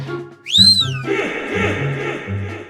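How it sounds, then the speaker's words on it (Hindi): A shrill pressure cooker whistle, cooking rice, rises and falls in one short blast, followed by a lower, rattling hiss of escaping steam. "ये किसने सीटी बजाई? सर कुकर ने।"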